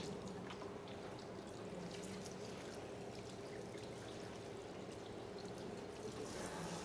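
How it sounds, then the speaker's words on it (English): Water is poured with some pressure for ritual washing during a ghusl practical, a steady close stream of splashing and trickling that runs unbroken throughout, with no voices. "With a bit of pressure of water."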